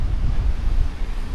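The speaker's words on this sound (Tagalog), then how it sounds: "Windy." Wind gusts buffeting the microphone on a beach at Portsea, a loud continuous low rumble with no voices.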